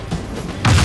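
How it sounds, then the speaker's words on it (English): A frag grenade goes off in Gears 5, a sudden loud blast arriving late after a stretch of lower battle noise, booming heavily and filling the mix. "Throwing frag!"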